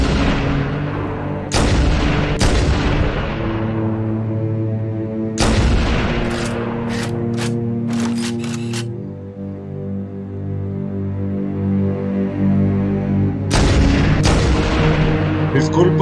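Sniper rifle shots in Halo CE Anniversary boom out as sharp, heavy reports spaced several seconds apart, each trailing into a long ringing decay over a constant low hum, with a cluster of quick clicks in between.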